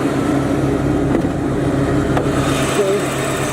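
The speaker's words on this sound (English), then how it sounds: "The Porsche is running right now." A Porsche 944 engine runs steadily at idle, a low continuous hum close by with faint intermittent noises over it.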